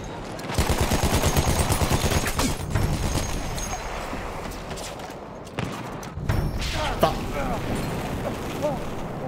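Madsen LMG light machine gun in the Battlefield 1 video game, firing loud sustained rapid bursts, joined by other gunfire and booms from the battle, with a voice talking over the din.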